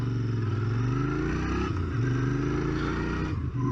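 A Royal Enfield Interceptor 650 motorcycle runs loud and close, its engine drone rising and dropping as it pulls through the gears with steady clattering mechanical noise.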